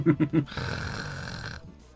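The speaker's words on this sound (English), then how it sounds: "that's a loud snore" A loud, exaggerated snore from the Higurashi When They Cry visual novel: three short snorting grunts followed by one long, rumbling drawn-out snore that fades away.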